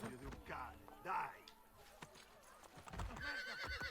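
A horse in Assassin's Creed Brotherhood gallops with quick clip-clop hoofbeats and lets out a neigh, close and lively amid combat sounds, with voices speaking over it.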